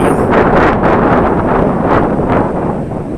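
Strong, gusty wind roars against the microphone while a new 170 cm kite is flown on a pull line, a steady loud rumble with brief swells and no voices.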